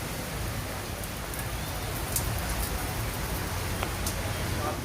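Heavy morning rain pours steadily over Karachi, a dense even hiss with scattered droplet taps, fairly faint and continuous with no clear talking.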